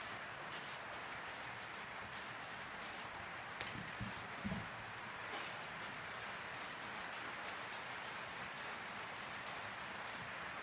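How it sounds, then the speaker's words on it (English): Black spray paint hisses from an aerosol can around the edge of an old tyre being upcycled into a seat, a steady close spray broken by brief pauses and short bursts. "So I'm just going to bung a bit of black spray paint around the edge before I attach the wheels."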